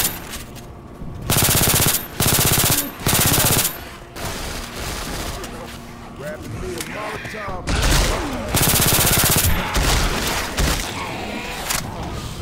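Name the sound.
gunfire in the video game Left 4 Dead 2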